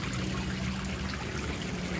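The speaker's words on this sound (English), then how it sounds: "It's a pond and a waterfall that drops into the pond." A backyard waterfall spills steadily into a garden pond, making a continuous, even rush and trickle of falling water close by, with no voices.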